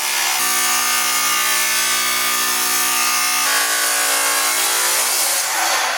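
A power tool grinding 316 stainless steel gives a loud, steady high-pitched whine that shifts in pitch partway through, then begins to wind down near the end.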